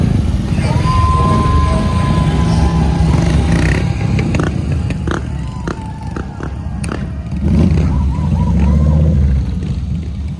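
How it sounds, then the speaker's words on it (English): Several motorcycles ride past in a grand parade at a classic and vintage vehicle concours on Ngong Racecourse, engines droning and revving steadily over a noisy outdoor crowd. "motorcycle competitors are coming along now in the grand parade"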